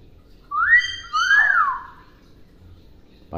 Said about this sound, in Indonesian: Burung beo yang sudah jinak.